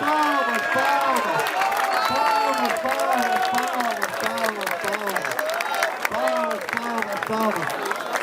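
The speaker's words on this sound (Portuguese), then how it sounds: "Olha aí, família, palmas. Palmas." A crowd at a Brasilândia rap battle final claps and cheers loudly and densely, with shouting voices and whoops layered over continuous applause close by.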